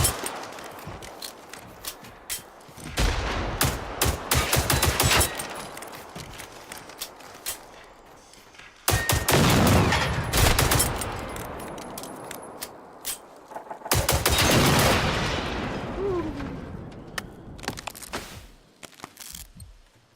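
Shotgun blasts from military-type enemies in the video game Generation Zero, several loud broadband bursts with echoing tails, interspersed with quieter rattles and game ambience.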